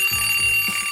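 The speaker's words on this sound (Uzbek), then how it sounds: "Chinursan, la'natli budilnik." A loud alarm clock rings steadily with a bright, continuous metallic tone, going off alone without any voice over it.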